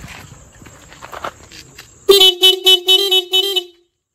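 A Roots melody maker dual horn fitted to an old-model CT100 motorbike sounds a rapid series of about six loud, bright, closely spaced honks, following faint rustling and handling noises.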